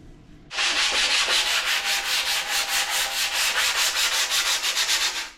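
Close, rhythmic hand sanding with 80-grit sandpaper begins after a brief quiet moment, then continues as steady back-and-forth rasping strokes in a regular, fast rhythm until it fades at the end.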